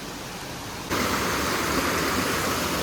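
Rainwater rushes through a culvert beneath a road during heavy monsoon rain, a steady, loud broadband roar that jumps up sharply after the first second and then holds constant with no voices.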